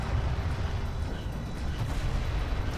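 Sustained rumbling gunfire and distant booms as a turret guard post comes under attack in the real-time strategy game Homeworld: Deserts of Kharak, a dense, steady low barrage with no clear individual shots.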